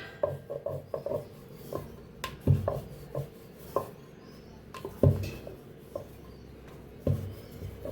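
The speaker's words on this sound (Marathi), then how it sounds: "ते पिठात बुडवून घ्यायचं मैद्याच्या, असं लाटून घ्यायचं" Karanji dough dipped in maida is rolled thin with a rolling pin, producing soft rhythmic rubbing and rolling strokes with occasional light knocks of the pin on the board, close and fairly quiet.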